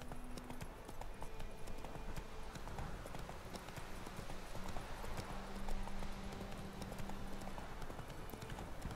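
Roach, a horse in The Witcher III video game, gallops with rapid, rhythmic clip-clopping hooves, steady and close throughout, over a faint ambient game background.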